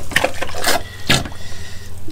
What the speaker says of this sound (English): that's the sound of the turkey baster and not me